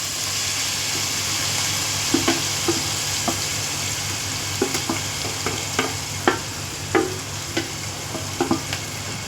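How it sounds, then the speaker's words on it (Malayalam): Chopped onions sizzle and fry in a hot pan for chicken curry, a steady crackling hiss with intermittent sharp stirring clinks and scrapes throughout. "ഇനി നമുക്ക് ഇതിലേക്ക് സവാള അരിഞ്ഞത് ആഡ് ചെയ്ത് കൊടുക്കാം"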